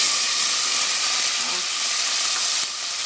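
Ingredients sizzle steadily as they fry in a pan while making moong dal rice, a continuous close hiss with faint stirring and no voices.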